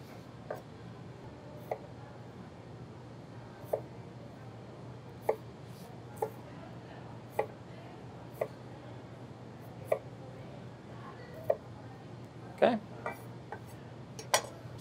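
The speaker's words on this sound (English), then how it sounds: "you're slicing into the potato and cutting" Sharp knife strokes slicing a potato against a cutting board at irregular intervals, about a dozen crisp clicks over a steady low hum, fairly close.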